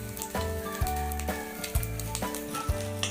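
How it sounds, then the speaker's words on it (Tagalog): A pan sizzles steadily as ingredients are sautéed for lomi, with a constant hiss broken by a few sharp scraping stirs, close and moderately quiet. "Dito na rin tayo magigisa pero lilipat natin na yung kasirola mamaya."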